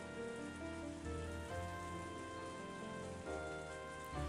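Heavy rain in the visual novel game Higurashi, a steady, dense patter of rainfall with soft background music tones, no voices.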